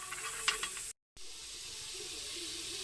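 Margarine melting in a pan before shrimp are added, giving a steady, faint crackling sizzle, briefly cut off by a moment of silence before the sizzle resumes.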